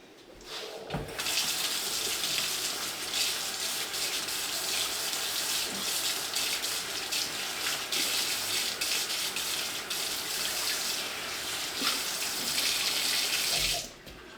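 A kitchen tap runs steadily while dishes are washed, a continuous close gush of water that starts and stops abruptly, with no talking.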